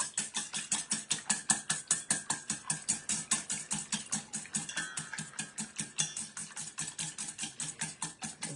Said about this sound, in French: je vais prendre un batteur